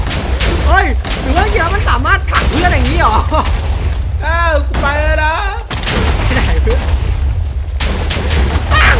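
TNT explosions in Minecraft gameplay, with repeated booming thuds scattered through excited speech that runs across most of the clip.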